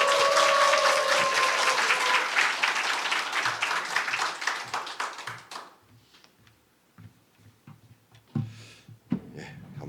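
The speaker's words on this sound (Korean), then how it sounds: "우리 우레와 같은 박수로 환영해 주셨으면 좋겠습니다" Loud applause from a church congregation welcoming a pastor at a festival service, dense clapping filling the first half and then thinning into a few scattered claps and quiet rustling.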